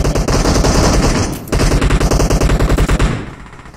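Loud, rapid shotgun gunfire in the PUBG Mobile video game, a dense run of close blasts that breaks off briefly and then resumes as a steady rapid string of shots before fading.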